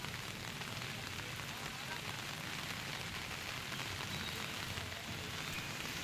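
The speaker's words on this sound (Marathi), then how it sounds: "शहरात पुन्हा सोसाट्याच्या वाऱ्यासह मुसळधार पावसाला सुरुवात झाली आहे" Steady, dense rain pours down with strong wind in Vasai-Virar, a constant broadband roar, a heavy downpour that stays loud throughout with no voices.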